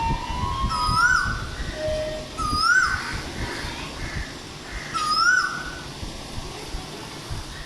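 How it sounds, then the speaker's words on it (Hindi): An Asian koel calls outdoors near a home, three rising whistled notes spaced a few seconds apart, clear and fairly loud over a dense background of ambient outdoor noise. "और यहाँ जी कोयल की आवाज़ सुने आप लोग।"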